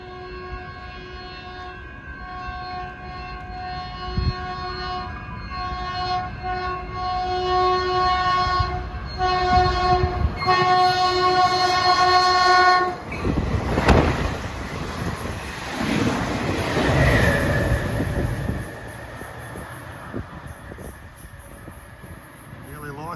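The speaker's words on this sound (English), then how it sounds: "Let's listen to that P2 horn." A Caltrain passenger train's loud multi-tone P2 horn blares in several long blasts, then the train roars past close by with rushing wind noise.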